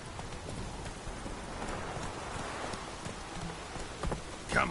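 Roach the horse in The Witcher 3 clops along at a steady walking gait under a wash of rain, hoofbeats soft and mid-distance, with a couple of sharper knocks near the end.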